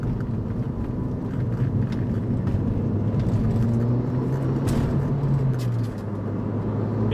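Ford Focus RS Mk1 accelerating, heard from inside the car as a steady, loud engine drone and road rumble that rises slightly in pitch before easing off near the end.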